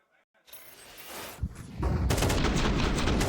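Gunfire shot through a wall in Counter-Strike during a BLAST Premier pro match, a sharp crack followed by a dense, loud burst of sustained firing and impacts, with no talk over it.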